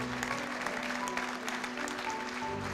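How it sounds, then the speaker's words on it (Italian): An audience at the opening of the Grande Fiera d'Estate 2014 applauds the exhibitors, steady, dense clapping from a sizable crowd with a faint tone humming underneath. "vi chiedo un primo applauso, un applauso per gli espositori"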